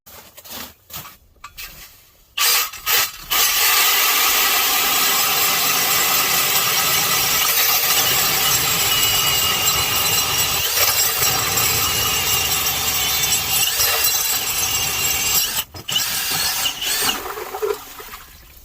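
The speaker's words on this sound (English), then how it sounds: "I'm going to hook up the auger now, put a couple holes in" Ice auger boring a hole through thick lake ice in Northeastern Ontario, a loud continuous engine-driven grinding roar lasting most of the time, after a few brief knocks and handling sounds at the start.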